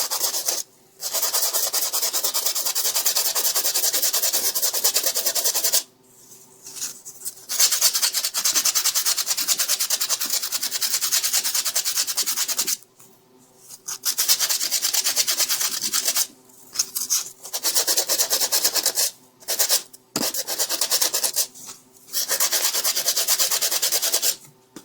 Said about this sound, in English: I'm just going to take some sandpaper